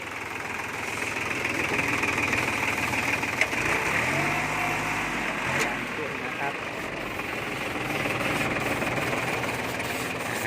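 A used farm tractor engine runs steadily and close by, a continuous loud rumble with a rough, knocking throb and a brief dip in the middle.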